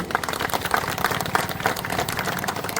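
Crowd applause at a political rally in Yedgaon, a dense run of many hands clapping at steady loudness with no pause, filling the whole stretch without talk over it.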